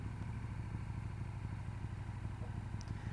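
A 2017 KTM 1290 Super Duke R runs with a steady, loud engine drone throughout, low and continuous with a faint clatter on top, as the rider pulls a wheelie; there is no speech.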